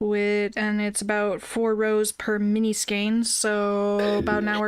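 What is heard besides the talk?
No distinct noise like a dog, phone or traffic.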